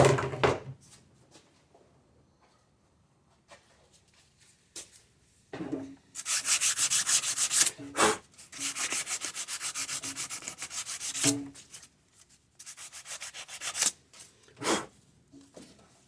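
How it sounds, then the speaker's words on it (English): Sandpaper rubbing over the engine area of a 2009 Chevy Equinox 3.4L during an EGR valve replacement: close, loud bursts of rhythmic back-and-forth scraping, several separate passes broken up by short pauses and small knocks. "Just gonna sand it a little bit."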